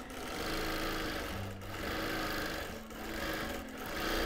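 A sewing machine free-motion quilts a wholecloth fabric border with farm-themed motifs, a close, steady, rapid mechanical chatter that rises and dips slightly in speed as the stitching moves along.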